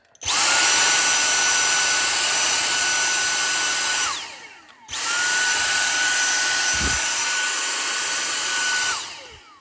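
A Dyson V6 cordless stick vacuum fitted with a high-capacity replacement battery runs close by, a loud steady high-pitched whine. It spins down briefly about halfway through, then starts up again and keeps running.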